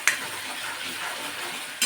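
Steady hissing sizzle of chopped coriander frying in hot oil for a tempering, with a soft scrape near the start and another near the end.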